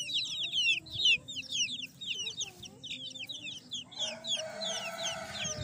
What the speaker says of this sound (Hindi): ये चिक्स देखें आप